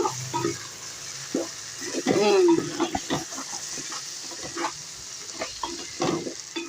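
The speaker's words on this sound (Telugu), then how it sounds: "చామ దుంపలు కూడా నూనెలో వేయించాము" Taro roots frying in oil in a pan, with a steady sizzle under stirring and scraping, close by and moderately loud, and a brief squeaky sound partway through.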